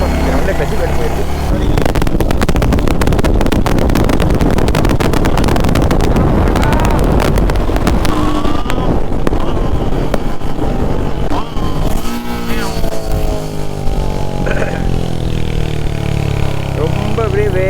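A Royal Enfield Hunter 350 motorcycle engine and exhaust drone on while riding, heavy wind buffeting the microphone and a rider talking over the steady, close engine sound throughout.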